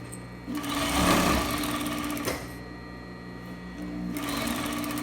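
Sewing machine stitching a half-inch side seam on a basic skirt, a close steady mechanical whir running throughout, briefly easing off in the middle before picking up again, with no talking.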